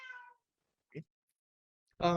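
A house cat meows three times close by, the first and last loud and drawn out, with a softer short mew in between against quiet.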